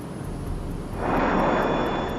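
Airliner on approach with its landing gear being lowered, a steady broadband roar of airflow and engines that swells louder about halfway through as drag builds, heard from inside the aircraft with no talking.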